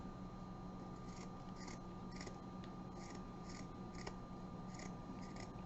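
Scissors snip repeatedly through sewn-in fabric during Christmas crafting, a steady series of crisp close cuts in a quiet room with no talking.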